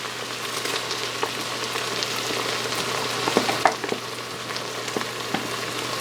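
Poblano peppers frying in an Instant Pot crackle and sizzle steadily, with scattered pops and scraping stir sounds rising through a low constant hum.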